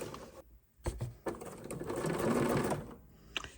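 A sewing machine stitches a handle onto a potholder, starting and stopping in short bursts before a longer steady run of rapid needle chatter, close and alone.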